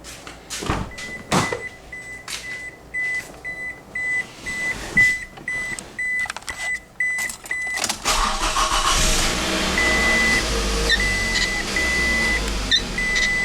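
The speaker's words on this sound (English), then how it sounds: "we'll go in and start the car." Car engine cranks and starts after an oil change, preceded by a series of clicks, thumps and chime beeps from inside the cabin, then settling into a steady running rumble for the last several seconds.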